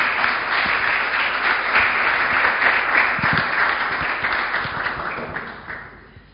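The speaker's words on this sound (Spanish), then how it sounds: "damos la bienvenida con un fuerte aplauso" A room of listeners claps loudly in welcome before a talk on the political ecology of music, a dense sustained wash of applause that gradually fades over several seconds.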